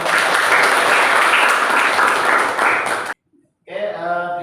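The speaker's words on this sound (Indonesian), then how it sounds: "kasih tepuk tangan dulu" A classroom audience claps steadily and loudly for about three seconds after a class presentation, then stops abruptly; after a brief silence a voice begins speaking.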